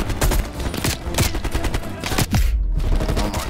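Sustained bursts of automatic gunfire from Call of Duty: Black Ops Cold War hammer away loudly and up close, with a brief gap before the shooting resumes.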